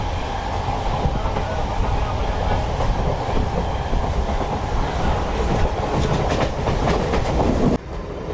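A MEMU express train from Bitragunta to Chennai Central running on rails, heard from on board as a loud, continuous rumble with a rhythmic clatter of wheels over joints, easing briefly near the end.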